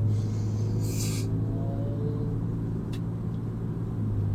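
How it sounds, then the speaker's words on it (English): A Subaru car engine rumbles steadily in morning traffic, a low continuous drone that stays close and fairly loud, with a brief hiss of passing traffic and no talking. "Why does that Subaru sound like a Honda Civic? I can hear it."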